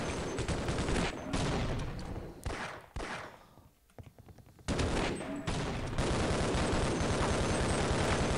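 Half-Life: Opposing Force gameplay with dense, continuous gunfire: rapid automatic bursts and overlapping shots, with a short lull in the middle before the firing resumes loudly.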